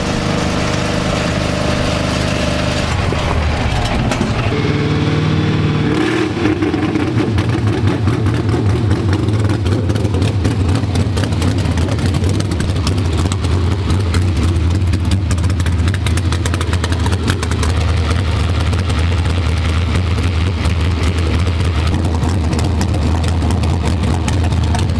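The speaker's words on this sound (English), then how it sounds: "now we're going to fire this beast" A sprint race car at Southern Oregon Speedway starts up after a short whir and settles into a loud, steady, deep engine idle that runs continuously with no talk.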